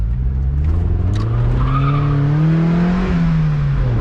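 A stock Mazda Miata NB sheds a drawn-out tire squeal as it corners, the rising and falling screech loud over the steady engine drone, with no one talking.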